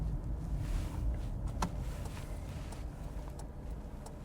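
A 1998 Toyota Corolla G Touring 4WD wagon's engine hums low and steady from inside the car while driving, with a few faint clicks and rattles over the road noise.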